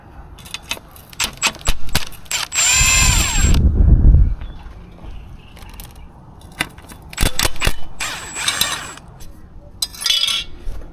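A power drill whirs in short bursts while removing bracket bolts on a BMW M3 engine bay, close and loud, between metallic clinks and rattles of tools and loose bolts.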